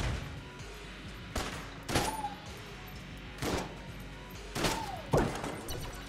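Gunfire in Enter the Gungeon: about five separate sharp shots at irregular intervals, each a crisp crack with a short ringing tail, over quiet game background and no talking.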